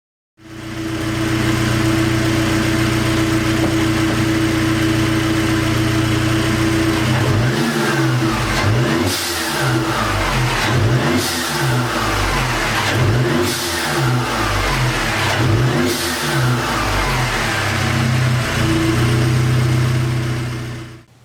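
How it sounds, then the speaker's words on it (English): A 2012+ Mercedes-Benz W204 C250 with a new aftermarket air intake idles steadily close up, then revs repeatedly in rising and falling bursts before settling back to idle. "let me turn on the car and show you how it sounds"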